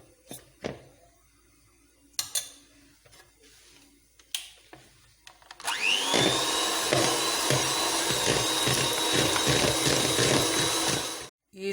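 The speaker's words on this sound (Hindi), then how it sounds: "ये मक्खन मैंने डाल लिया है, पहले मैं इसको बीट कर लूँगी थोड़ी देर।" After some quiet kitchen clatter, an electric hand beater starts whipping butter for red velvet cake batter, giving a loud, steady motor whine that runs for several seconds and then cuts off abruptly.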